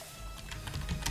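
Quick, light taps on a computer keyboard as a name is typed, a short run of close keystrokes at low volume.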